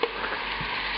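A porcini, shallot and white-wine mixture hits a hot pan with mushrooms, giving a brief, close sizzle and frying hiss with a faint stir, alone and without speech.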